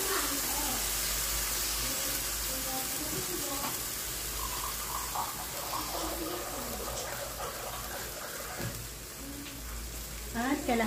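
A cup of coconut milk being poured into a cooking pot for ginataang bagongon, a steady liquid wash mixed with sizzling and stirring that runs throughout under continuous kitchen noise.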